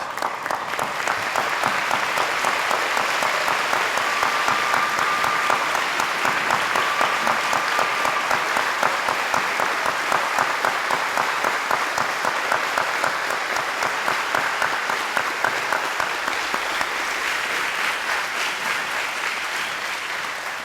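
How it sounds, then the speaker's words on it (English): A large standing crowd at a school veterans celebration breaks into loud, dense applause that holds steady for about twenty seconds, with many hands clapping at once and no break in the sound. "Join me with a rousing panther round of applause."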